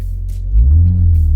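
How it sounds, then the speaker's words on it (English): A Mini Countryman JCW exhaust gives a deep, loud rumbling rev that swells midway and holds, close and without talk. "You see the exhaust note gets a little deeper."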